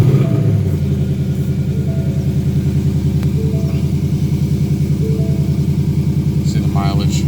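A brand-new 2018 Ford Mustang on a dealer lot starts up and settles into a steady, close, loud idle with a continuous low rumble, while a person talks over it.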